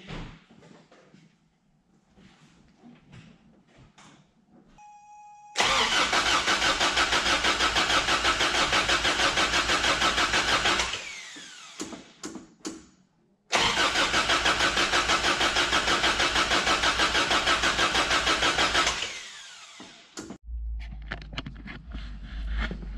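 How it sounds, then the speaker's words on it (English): A Toyota 22RE engine cranks in two long bursts of rapid starter whirring, loud and close, separated by quiet pauses and faint clicks, without catching. "Obviously you heard it try to start."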